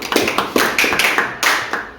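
A small group claps in a loose string of sharp, close slaps, about a dozen in two seconds, with no talk.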